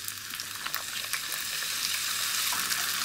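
Soy sauce hits a hot frying pan of egg fried rice, producing a loud, continuous bright sizzle close by with small crackling pops throughout.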